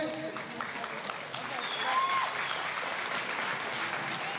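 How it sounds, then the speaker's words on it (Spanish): Applause from guests at a quinceañera party, a steady moderate wash of clapping that swells slightly midway, with the voice of an emcee or DJ audible over it. "Esos aplausos para la señorita quinceañera"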